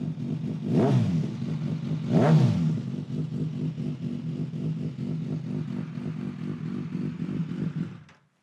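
A running engine idles high with an uneven, irregular pulse that stays close and steady for about eight seconds. Two quick throttle blips rise early on, and the engine then cuts off at the end.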